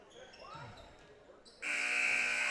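A loud, sustained end-of-quarter buzzer blares in a gym during a basketball game between Atkins and Perryville, cutting in after ball bounces and crowd noise while a commentator talks.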